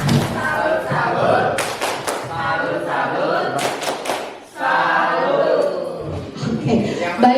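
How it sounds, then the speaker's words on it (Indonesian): An Indonesian school audience performs a rhythmic 'tepuk salut' clapping cheer, with bursts of claps and thumps mixed with loud group chanting voices, close and energetic. "tepuk salut untuk Bu Aksi dari SMA Negeri 4 Cimahi"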